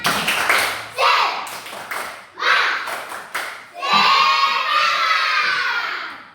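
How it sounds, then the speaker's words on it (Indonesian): Classroom of children clapping in unison in a rhythmic 'tepuk semangat' chant, bursts of claps separated by short pauses, ending in a longer sustained stretch of shouting and clapping, fairly close and loud. "Oke, sekali lagi. Tepuk semangat."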